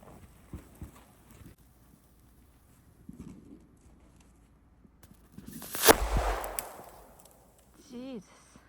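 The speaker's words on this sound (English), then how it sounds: "So this has the lift charge, and it bursts up with a good comet tail." A homemade firework shell with a lift charge and comet tail bursts outdoors at an Alaska cabin in winter. A sharp, loud bang follows a quiet stretch and fades into a brief rumbling tail, with a voice reacting afterward.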